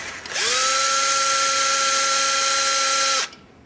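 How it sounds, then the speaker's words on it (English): Cordless drill with a 3/8 socket spins out bolts on a Polaris Ranger clutch cover, giving one close, loud, steady high whine that ramps up, holds for about three seconds, then winds down. "I like using my cordless to remove them."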